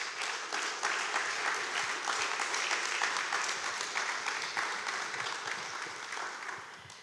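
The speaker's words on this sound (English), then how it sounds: "I would like to applaud for them" Steady applause from an audience at a youth peace forum session on cities, communities and care, dense and sustained for several seconds with no voices, easing slightly at the end.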